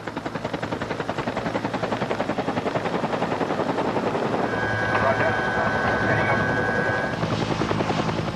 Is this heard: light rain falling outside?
no